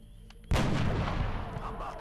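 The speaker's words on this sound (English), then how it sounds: "we can safely activate Sniper Teasdale's Headshot ability and see if he can't land the kill" A sniper rifle headshot in the video game XCOM Enemy Within bursts out as one heavy, booming report, with a long rumbling tail that fades slowly.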